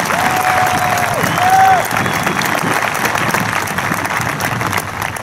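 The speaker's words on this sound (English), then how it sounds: "let's give Mr. McWilliams and Mr. Ritchie a big round of applause" A high school graduation audience applauds in a large hall, a dense steady clatter of clapping that swells briefly before holding level, with faint crowd noise and a whistle-like tone mixed in.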